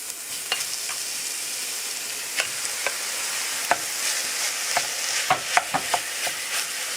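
Beef frying with garlic and onion in a pan, a steady high hiss of sizzling broken by sharp crackles and spatters, close and continuous.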